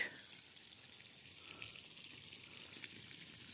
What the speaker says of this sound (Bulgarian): Гледайте каква струя прави помпата.